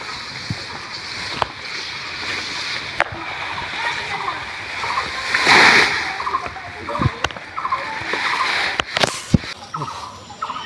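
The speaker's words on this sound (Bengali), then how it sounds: "ঘাস সব বের করে আবার ধুয়ে ফেলে রাখতে হবে" Freshly cut bhenda grass washed by hand in water outdoors on a hot day: irregular splashes and sloshing, with a few sharper slaps, close by, amid a steady background hiss.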